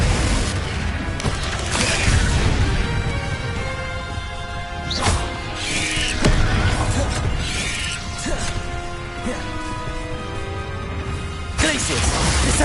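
Spell effects from Hogwarts Legacy, including the Descendo slam-down spell, come as repeated whooshing bursts and heavy booming impacts over a constant music bed, with loud crashes recurring throughout.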